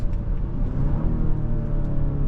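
Genesis GV70 2.5T turbocharged engine dropping through gears on paddle-shift downshifts, a steady close-up drone of engine and road noise inside the cabin, with small shifts in pitch and no talking.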